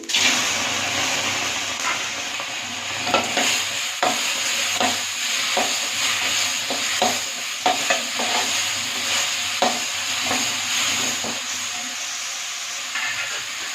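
Tomatoes sauté in a pan for kovakkeerai chutney, with a soft continuous sizzle and a hiss of steam, while a spoon scrapes and taps the pan now and then, close by with no talk.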